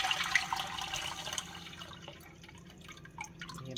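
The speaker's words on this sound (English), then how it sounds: "Guys, I have to strain the quinoa." Water drains through a strainer full of rinsed quinoa, a close, fairly loud trickling with scattered drips that slowly thins out.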